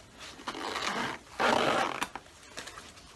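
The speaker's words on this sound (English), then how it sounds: "We'll take a look at the zippers here." A YKK zipper with rubber-coated pull tabs on a Krydex MK3 micro chest rig is pulled in two close, rasping runs, the second louder and sharper, followed by a few small clicks of the pull tab.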